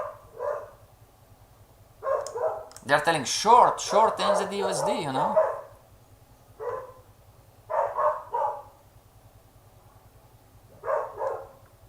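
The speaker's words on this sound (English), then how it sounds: "The dogs are getting crazy." Dogs bark in short bursts in the background while someone talks over them, with a longer run of barking and yelping in the middle and a few spaced barks after.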